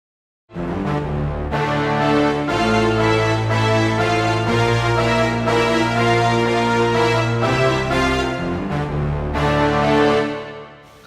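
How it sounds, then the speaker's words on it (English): A keyboard patch layering a full orchestral string section with brass plays sustained chords for about ten seconds, loud and continuous with a few chord changes, no talking. "Now we have a string section with brass sounds,"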